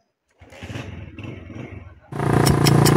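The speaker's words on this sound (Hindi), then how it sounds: "ये बाइक निकाल रहे हैं" A motorcycle decked with a flag is wheeled out through a large gate during a 14 August celebration. Someone talks briefly, then the engine bursts into a loud, rough, close running rumble with clattering.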